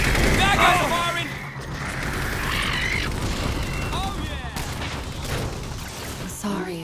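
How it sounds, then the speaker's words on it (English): Enemy gunfire in the Halo 4 video game crackles in rapid bursts and booming reports that overlap with other battle noise, loud and close across the whole stretch. "Bad guys are firing!"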